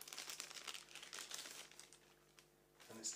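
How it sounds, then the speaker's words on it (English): A plastic bag wrapped around a new laptop hard drive is handled up close, giving steady soft crinkling and rustling that fades slightly before a brief final rustle. "The new drive has come in this plastic bag,"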